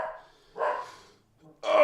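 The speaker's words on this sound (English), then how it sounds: "Oh, Max is barking." A dog named Max barks in a few separate bursts indoors, fairly near and moderately loud, with short quiet gaps between the barks.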